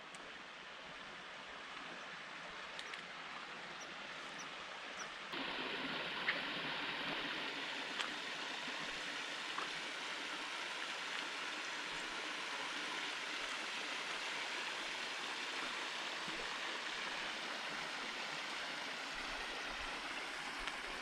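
Spring water flowing out of the ground into a clear desert creek in the Lower Pecos River Valley, Texas, a soft, steady rushing murmur that grows slightly fuller partway through, faint and continuous.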